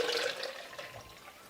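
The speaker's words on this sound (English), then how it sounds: "pour that mixture into my pitcher as well" A juice mixture of pineapple, celery and turmeric is poured into a pitcher, making a brief trickling, splashing flow that starts strong and tapers off within a second or so.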